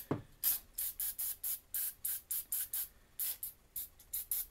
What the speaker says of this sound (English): I spray this stuff everywhere.